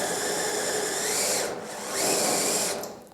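A drill bit bores into the sheet metal of a Pontiac GTO car quarter panel, a close, steady grinding whine that dips briefly midway and then resumes, with no talk.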